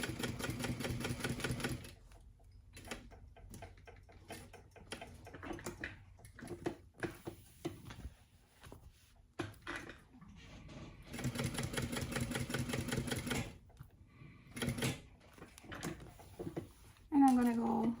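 Sewing machine stitching a convertible tote bag, running in steady bursts of rapid mechanical clatter separated by pauses, with a final short whir; close and fairly loud.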